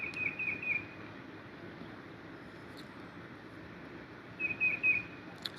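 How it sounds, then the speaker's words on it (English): Faint bird chirps at the start and again near the end, set against a quiet outdoor background with soft ambient noise. "The birds are chirping like normal birds."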